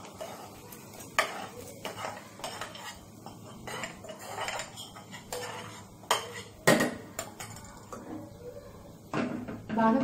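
A pressure cooker is set on a stove while Andhra gongura pappu, a sorrel-leaf dal, is being made. Metal pots and utensils clink and clank in irregular, fairly close bursts, with no talk.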